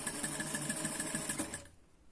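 A sewing machine stitches a toiletry bag in a fast, even, rhythmic whir that sounds close by, then stops abruptly near the end and leaves quiet.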